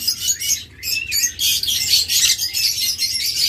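A pair of lutino Fischer's lovebirds chirps close by in a string of sharp, high twittering calls, busy and overlapping, with no voices.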